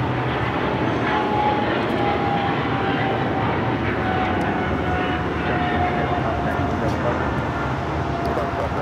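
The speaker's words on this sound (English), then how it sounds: "this is Japan Airlines Flight 15 taking off to Tokyo, Haneda on the 777 300ER" A Japan Airlines Boeing 777-300ER taking off at Los Angeles LAX, a steady broad jet roar with a faint whining tone, sustained and fairly loud throughout without distinct peaks.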